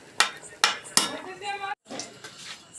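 A steel pot of cooked dal set down from the stove, with several sharp metallic clanks and clinks close by, followed by a brief scrape and rattle.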